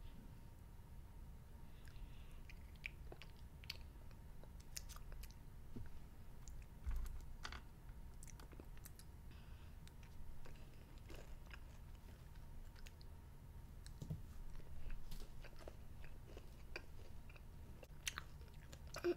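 Crunchy chocolate Easter candy with a sour apple-flavored crunchy coating and soft chocolate center being chewed close up, a steady run of soft crunching and mouth clicks with no talking.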